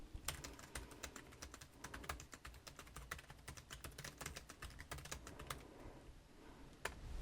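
Rapid clicky keystrokes on a foldable Bluetooth keyboard with a mechanical-like click, a fast steady burst of typing heard up close, then a pause and a couple of final taps.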